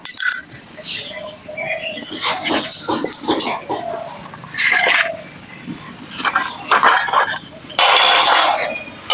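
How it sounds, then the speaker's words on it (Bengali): A metal wok (kadai) clatters onto a stove amid clinking pots, pans and utensils in a home kitchen, with loud irregular knocks and scrapes as fish curry with cauliflower is prepared. "এবার আমি কাড়িয়া চাপিয়ে দেবো"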